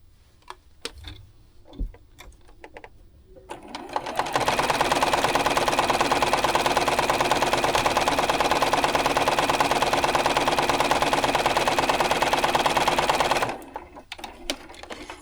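A sewing machine joins quilt block pieces for a modern quilt block, running in one loud, steady, continuous stretch for about nine seconds after some quiet handling noises, then stopping abruptly.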